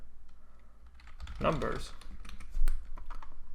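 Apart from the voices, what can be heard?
typing on a computer keyboard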